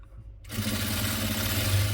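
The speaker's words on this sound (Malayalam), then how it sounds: "ഇങ്ങോട്ട് മടക്കിയിട്ട് സ്റ്റിച്ച് ചെയ്തെടുക്കുക." A home sewing machine stitches a folded seam on a cloth shopping bag, starting abruptly after a short quiet moment and then running in a steady, fast, close mechanical whir.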